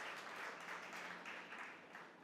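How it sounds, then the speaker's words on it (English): Audience at a women chartered accountants' conference applauding, a steady wash of many hands clapping in a large hall, fairly distant and even throughout. "you guys should clap for yourself"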